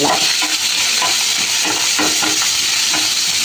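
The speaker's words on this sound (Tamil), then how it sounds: "தக்காளி வெங்காயம் அப்படியே சேர்க்குறோம் பாருங்கள். மொத்தமாக சேர்த்து கொட்டிட்டு வதக்கி விட்றோம் பாருங்கள்." Tomatoes and onions sautéing together in a pan for pattani masala, a loud, close, continuous sizzle broken by repeated scraping stirs of a spoon, with no talking.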